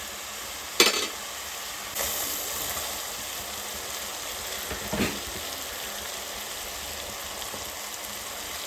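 Potatoes frying with spices in a pan, a steady soft sizzle with a few sharp clatters of stirring, moderately quiet and without talk.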